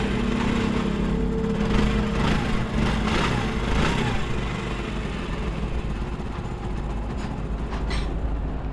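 A Honda CD 70 motorcycle engine idles steadily and evenly after a head gasket repair, a continuous low rumble with a faint hum, close by and unchanging throughout.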